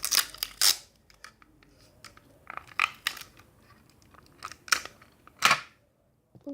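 Several short, sharp rips of adhesive tape being pulled and torn close up, in quick irregular bursts with quiet gaps between.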